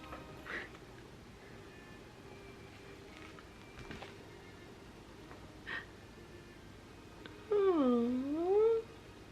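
A cat meows near a Christmas tree in a home, one short drawn-out call near the end of the clip, standing out over faint background noise.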